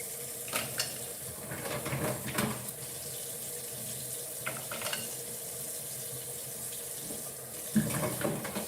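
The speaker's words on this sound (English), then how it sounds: "anytime you're washing the mussels, make sure you wash it in cold water" Cold tap water runs steadily into a sink while mussels are rinsed, with occasional clatter and swishing of shells under the stream.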